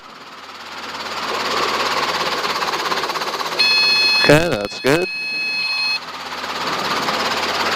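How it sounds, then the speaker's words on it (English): Robinson R22 helicopter piston engine starting up, a steady loud mechanical drone with a brief warning horn tone and a sharp transient midway, while people talk over the intercom. "And that was the engine startup."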